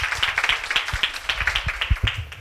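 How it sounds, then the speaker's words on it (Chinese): Audience at a civic tech summit claps to welcome a speaker, a moderate group of individual hand claps in quick, uneven succession, close and distinct. "那我们用鼓掌欢迎李穆约"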